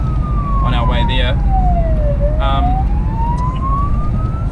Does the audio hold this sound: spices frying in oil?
no